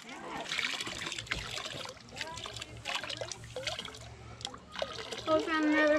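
Water splashes and trickles as gold is panned in a small sluice box at Columbia State Park, with irregular sloshing close by and people talking over it.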